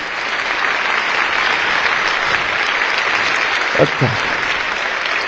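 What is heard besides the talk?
audience applause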